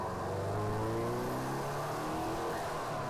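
A 2012 Subaru Impreza WRX with its turbocharged engine pulling under acceleration, a steady rising drone heard from inside the car over road rumble, fairly quiet and continuous.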